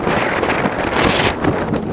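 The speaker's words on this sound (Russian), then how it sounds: "Ой, какой ветер." Hurricane-force wind buffets a microphone outdoors beside a garden, a loud, continuous roaring rumble that surges and eases without pause.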